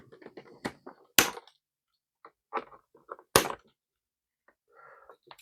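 An action figure being cut free of its plastic blister packaging: scattered sharp snips and clicks with short crackling bursts of stiff plastic and quiet gaps between, close by with no talking.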